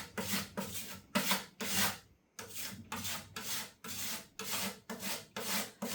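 Repeated rasping strokes of a scraper dragging paint across a stencil laid on furniture, a steady back-and-forth rhythm of about ten close, loud scrapes with a brief pause midway.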